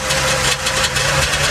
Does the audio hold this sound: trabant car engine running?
yes